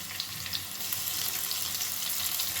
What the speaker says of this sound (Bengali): দিয়ে দিলাম রসুনের কোয়া আর দেব দুটো চেরা কাঁচা লঙ্কা